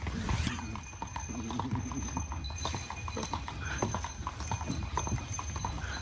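A horse pulling a traditional carriage in Makó, Hungary clip-clops in a steady, close rhythm on hard ground, with a brief neigh and people speaking faintly in the background.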